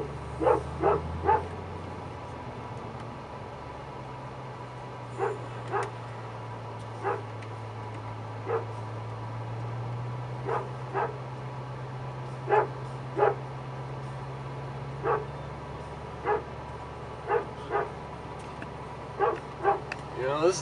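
A dog barks in short, evenly spaced bursts, sometimes in pairs, off at a moderate distance along a rural road, over a steady low engine drone.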